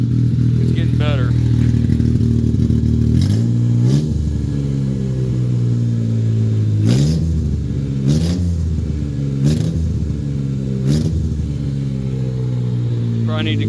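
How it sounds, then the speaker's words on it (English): A mini truck engine with a gummed-up carburetor idles unevenly right up close. It runs as a steady low chug, broken by several short sharp bursts of clatter or revving. "It's starting to idle on its own now, it's not dying out, so it's obviously a gummed up carburetor"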